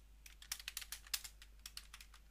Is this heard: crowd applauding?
no